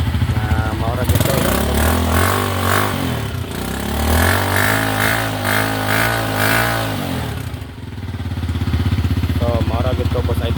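A Rusi 150 motorcycle with a worn stator coil revs up and settles in rising and falling engine swells, heard close under steady talk, then drops off before idling again near the end.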